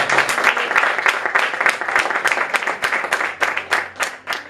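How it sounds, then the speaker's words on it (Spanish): A church congregation claps loudly and steadily for several seconds, dense overlapping hand claps from a crowd filling a worship hall, with a faint background tone underneath. "Denle un aplauso fuerte al Señor."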